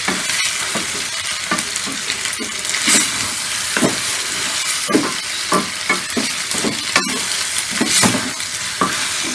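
Goat blood pepper fry is stirred in a hot pan, with a steady sizzle broken by repeated scraping, clattering strokes of the spoon against the metal at an uneven rhythm, close up.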